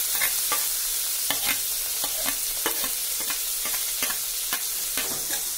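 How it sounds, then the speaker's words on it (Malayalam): Tomato, onion, curry leaves and chilli are stirred in a hot pan under a steady sizzle. A spoon scrapes and taps against the pan at irregular moments, and no one speaks. "ഇനി നന്നായി അത് ഇളക്കി കൊടുക്കാം."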